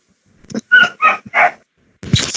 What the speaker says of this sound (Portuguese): Que eu ouvi um cachorrinho latindo.